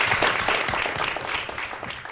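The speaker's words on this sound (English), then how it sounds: "Let's give them a round of applause." Audience applause for a publishing panel at a bookstore author reading, a dense burst of clapping that gradually fades.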